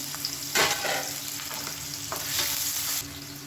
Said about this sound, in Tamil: இப்போ இதில் ஒரு கைப்பிடி அளவுக்கு பெரிய வெங்காயம் நீளமாக இருக்கிறத சேர்த்துக்கலாம். இது நல்லா வதங்கட்டும்.